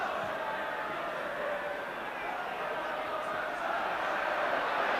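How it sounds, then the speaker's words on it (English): Football crowd at a 1977 West Ham versus West Bromwich Albion league match, a loud, steady, broadband roar of cheering that swells slightly toward the end without a break. "Crowd really with plenty to cheer, and they're giving it all they've got now"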